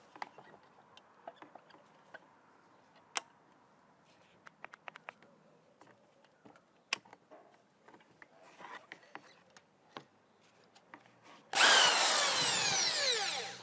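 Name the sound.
power drill with 20mm hole saw cutting a hole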